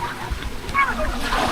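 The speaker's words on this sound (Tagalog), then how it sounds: "mukhang malakas ang alon" Waves slap and splash against a boat heading to Corregidor island in the Philippines, a choppy rushing wash close by, with a voice speaking over it.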